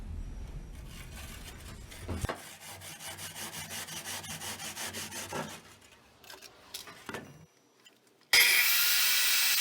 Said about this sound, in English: these fire bricks are so soft that I can use a handsaw to finish off the cut